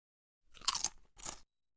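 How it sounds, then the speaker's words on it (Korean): Two close, crisp crunching bursts of chewing on a dujjonku cookie, the first longer and louder, the second shorter, with no talking. "오빠랑 같이 두 쫑쿠를 먹어요"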